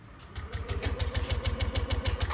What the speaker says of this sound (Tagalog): Ayaw umandar nung kanyang motor.